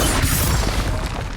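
A Confringo blasting spell explodes in Hogwarts Legacy, a short, loud, dense boom with a crackling burst that fills the moment and fades quickly.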